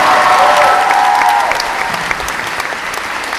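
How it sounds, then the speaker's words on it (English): Convention crowd applause for the late actor Richard Harris, a loud dense burst of clapping with a brief tonal whistle early on, tapering slightly as it continues. "Actually, a bit of a crap round of applause for the late,"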